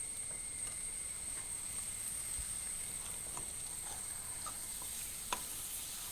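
About 300 grams of tomatoes sauté in a pan for a chicken curry, with a faint, even sizzle and a few soft scrapes and taps from stirring.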